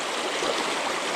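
Steady rushing flow of a river stream over slippery rocks, a close, dense broadband wash of water with no pauses.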